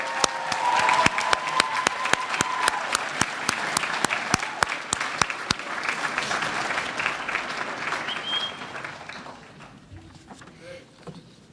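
A crowd of family and friends applauds at a graduation ceremony in a university auditorium, dense clapping that holds steady and then gradually thins and fades away.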